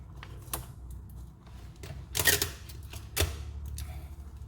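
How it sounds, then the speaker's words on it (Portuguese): Clear adhesive tape is torn and pressed down to hold a handle on a workbench, with a few quiet crackling pulls and taps scattered over faint background hum. "eu vou prender aqui com um pedacinho de durex"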